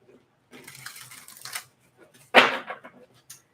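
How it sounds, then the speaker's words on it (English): A Sunlight Tarot card deck is shuffled in brief riffling bursts, a soft rustle followed by a sharper, louder flurry of cards, close up and alone. "They want me to shuffle it really good"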